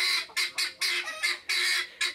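A goose squawking in a series of loud, harsh honks, about seven short bursts in quick succession, close by, at a farmyard where geese lay eggs.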